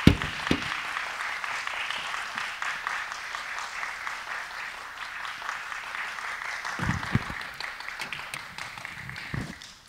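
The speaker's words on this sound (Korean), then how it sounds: "박수로 환영해 주시기 바랍니다." A seminar audience at a pastors' conference applauds to welcome a pastor as speaker, a steady, moderately faint round of clapping that runs for several seconds, with a few louder thumps near the start and around the middle.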